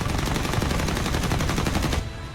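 Rapid 20mm cannon fire from an F-89 aircraft, a loud, continuous rattling burst of evenly spaced shots for about two seconds before cutting off into a fading tail.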